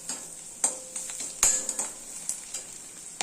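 Curry leaves and asafoetida fry in a pan of hot oil, a soft sizzle under sharp intermittent clinks and scrapes as a spoon stirs against the pan.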